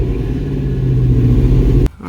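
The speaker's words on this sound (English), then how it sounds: "that daggum exhaust rattling down there is about to drive me nuts" A carbureted car engine idles low and steady with a rattling exhaust underneath, a close, continuous rumble that cuts off abruptly near the end.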